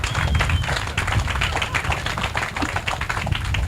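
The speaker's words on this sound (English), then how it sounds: "So how about a second round of applause for Ron Davis?" Steady applause from a crowd at an outdoor groundbreaking ceremony for a housing estate, many hands clapping in a dense, continuous patter, moderately close throughout.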